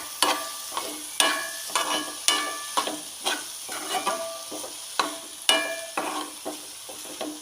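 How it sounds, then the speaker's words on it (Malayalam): Ivy gourd stir-fry, Kerala kovakka mezhukkupuratti, cooking in a pan as a spoon scrapes and turns the pieces in regular strokes, each stroke bringing a brief clatter over a light, quiet sizzle. "ഇങ്ങനെ നമ്മളെ കോവയ്ക്ക മെഴുക്ക് കുക്കായി കൊണ്ടിരിക്കുകയാണ്"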